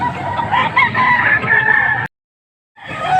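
Stag roosters in Pampanga crow loudly and close, one long drawn-out crow followed by a sudden cut to silence before another crowing call begins.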